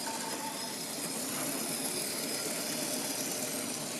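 Mainline Class 45 model diesel locomotive running on a layout, giving a faint, steady motor whir and hum with no breaks.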